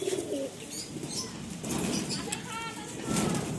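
Caged pigeons coo softly nearby and flutter their wings in short bursts. Someone talks over them the whole time.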